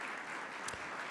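Audience applause at an annual nonprofit gathering: a brief, steady wash of many hands clapping together, filling the room at an even level.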